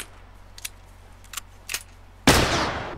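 Enemy gunfire in The Last of Us video game: a few sharp, separate shots crack out at a distance, then a much louder close blast hits and rings off into a fading tail, with no talk.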